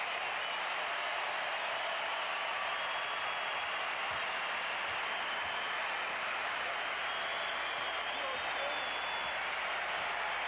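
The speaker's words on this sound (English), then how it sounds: "Michael Jordan is coming out of the game to a standing ovation in Washington" An arena crowd in Washington gives Michael Jordan a standing ovation during his final home game, a steady roar of applause and cheering that carries on unbroken and evenly loud.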